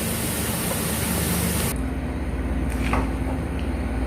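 Steady broadband rushing of water being drained off cooked rice for biryani, loud and close, easing slightly partway through, with no voices.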